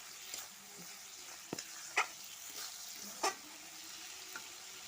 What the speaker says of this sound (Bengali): ভালো করে মশলাটাকে নেড়ে ফেলবো।